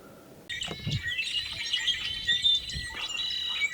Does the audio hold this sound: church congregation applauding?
no